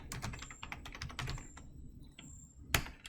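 Keys clatter on a computer keyboard in quick irregular bursts of close, crisp taps, with a pause before a final sharp keystroke.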